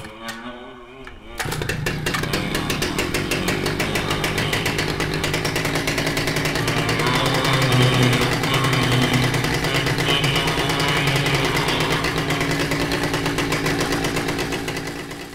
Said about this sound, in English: The chainsaw started on the first pull with a belch of smoke